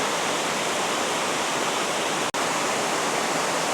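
Benton Falls waterfall roars as a constant, dense rush of water, loud and steady, with a momentary dropout partway through.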